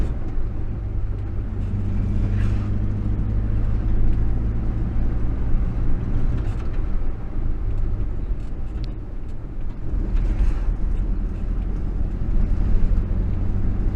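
A 1962 Morris Minor's exhaust lets out a little raspberry as the foot lifts off the accelerator, a steady low rumble from inside the moving car that runs continuously, with no talking.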